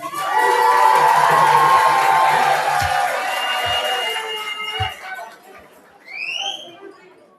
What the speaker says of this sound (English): give me some one round of applause